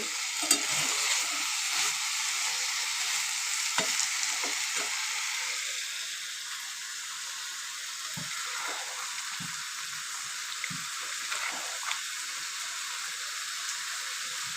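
Meat and potatoes stir-fried in a pan with salt, a steady close sizzle with occasional scraping stirs, quieter and softer in the middle before picking up again.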